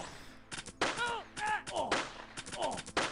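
Video game gunfire in a mob-themed mission, several sharp shots cracking in quick bursts amid game sound effects and tonal calls.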